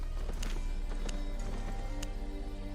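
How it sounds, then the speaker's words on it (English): Horse hooves clip-clopping in a steady run while riding in a PvP video game, a continuous game soundtrack and hum underneath with sharp hoof taps recurring throughout. "Riding horse."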